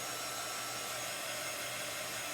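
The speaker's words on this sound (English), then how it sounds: "This is actually a heat tool, so I have to be careful not to get it too hot so I don't boil that chalk paste." A handheld heat tool blows steadily to dry chalk paste on a heart frame craft, giving an even whooshing roar that holds close and unbroken from start to finish with no talking.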